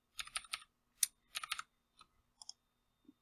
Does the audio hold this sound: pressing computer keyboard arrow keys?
yes